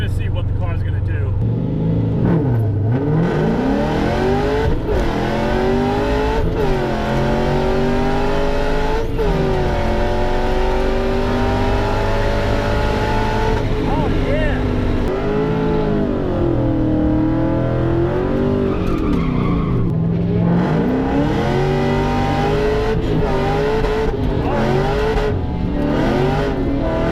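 A drag race car with a new rear end on Mickey Thompson drag radials at a drag strip, its engine loud and close, winding up and dropping back repeatedly in sweeping pitch climbs through shifts and revs over nearly half a minute.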